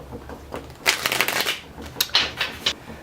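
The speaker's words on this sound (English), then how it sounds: "one of the things that you have to do is to shuffle the cards" Tarot cards being shuffled in a few quick riffling bursts, crisp rustling and snapping close by, with short pauses between bursts and no talking.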